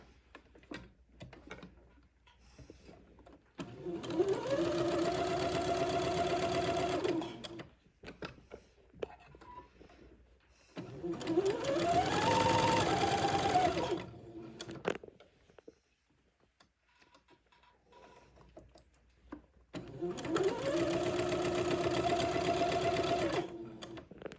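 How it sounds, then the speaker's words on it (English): A sewing machine stitches a seam near the bottom edge of a sleeve in three separate runs. Each run is a steady mechanical whir lasting a few seconds, with a rising motor pitch, and quiet pauses fall between runs. "I'll sew my next one 1/4 of an inch away from the first one, so it'll be roughly 3/8 of an inch away from the bottom edge of the sleeve"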